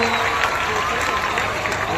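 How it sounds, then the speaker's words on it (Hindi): Applause from schoolchildren and guests at a school award ceremony, a continuous crowded clatter of clapping with murmuring voices and faint whistle-like tones mixed in, steady and fairly close. "जोरदार तालियां होनी चाहिए"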